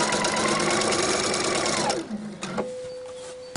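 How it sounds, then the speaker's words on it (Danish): A sewing machine stitches a ribbed V-neck neckline, running in a loud, steady mechanical whir for about two seconds, then stopping, with a faint whine and small clicks afterward. "Og det er altså nemmere at styre på symaskinen."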